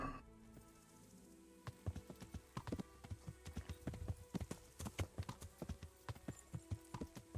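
Horse hooves clip-clopping at a brisk gallop in the medieval game Kingdom Come: Deliverance, a steady run of sharp, close hoofbeats that starts after a short pause and continues without talk.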